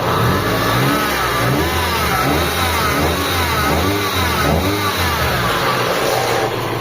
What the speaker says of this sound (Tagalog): maingay yung mga bearing natin dito sa side na to